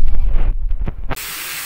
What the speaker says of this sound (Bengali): চিকেনটা কষাবো